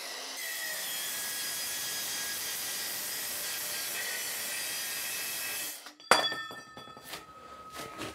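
A Bosch GKM 18V-50 cordless metal circular saw cuts through a steel tube with a steady high-pitched whine for about six seconds, then stops abruptly, followed by metallic clinks and rattles of the cut piece, no talking.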